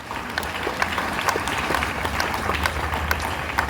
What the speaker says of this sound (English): Please clap for yourself again.